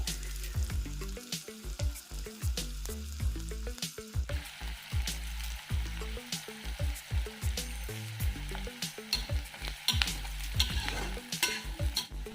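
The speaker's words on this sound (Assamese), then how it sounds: "পিঁয়াজখিনি ৰঙচুৱাকৈ ভাজিলে বেছি ভাল" Onions fry in oil in a pan for biryani, with a close crackling sizzle and rhythmic scraping strokes of a spatula stirring them, steady and alone without voices.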